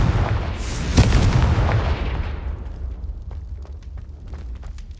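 Confringo blasting spell in Hogwarts Legacy erupting in a heavy explosion, a loud booming burst followed by a long rumbling decay with scattered crackles and pops.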